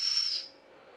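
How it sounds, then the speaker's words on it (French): A short, shrill whistle on a large twin-cylinder model steam engine, with a hissy edge, sounds for under half a second, then fades into a soft background hiss. "il y a un peu de vapeur, je pense que j'actionne le sifflet."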